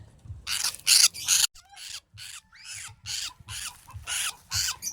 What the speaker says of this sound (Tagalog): so nakahuli na naman tayo ng ibon